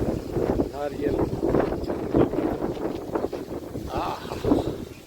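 Strong gusty wind outdoors under heavy clouds, buffeting the microphone in uneven roaring bursts while someone talks over it throughout.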